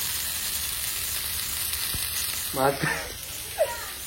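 Fish frying in a pan gives a steady, close sizzle throughout, with a brief voice near the end.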